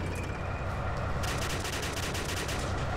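Rapid gunfire from a half-track in the World War II game Iron Front: Liberation 1944, a dense, steady rattle of shots heard at moderate distance over continuous battlefield rumble.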